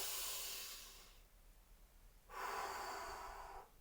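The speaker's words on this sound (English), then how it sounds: "Okay, everyone take a deep breath" One person takes a slow, deep breath close to the mic: a long hissing inhale, a short pause, then a long airy exhale of similar length.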